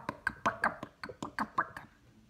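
A voice imitates a noisy old car with a quick, sputtering run of about ten choppy bursts, close and fairly loud, trailing off after about two seconds.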